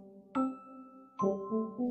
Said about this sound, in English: Pull the bell.